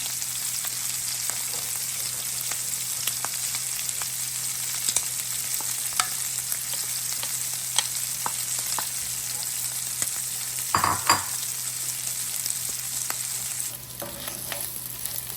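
Shrimp sizzling steadily in a hot pan for pineapple shrimp fried rice, a dense continuous frying hiss with faint utensil taps, close and fairly loud, with no talking.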